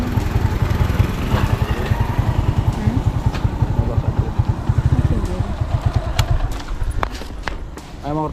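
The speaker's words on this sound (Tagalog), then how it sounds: "May motor na." A motorcycle engine chugs close by with a rapid, regular low pulsing that stays loud, then eases off near the end as voices and scattered clatter come through.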